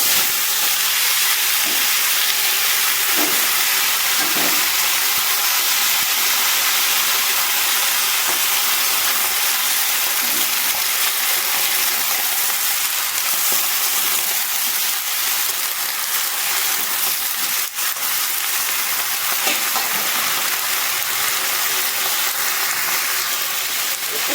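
Vegetables frying with whole dried red chillies and panch phoron in hot oil, a loud steady hiss and sizzle throughout with occasional faint clinks and stirring sounds.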